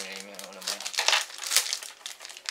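Close, crisp crinkling of a plastic bag holding model kit polycaps being handled, irregular bursts of rustling and crackling, loudest in the middle, after a brief low hum at the start.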